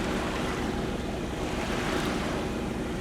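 A sailboat motoring under engine power across Johnstone Strait in very light winds, a steady wash of water and wind rushing past with a low, even drone underneath, continuous and unbroken.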